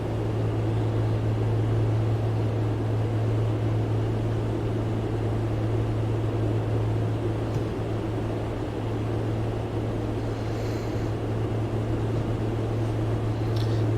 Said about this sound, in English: engine's starting to sound a little bit rough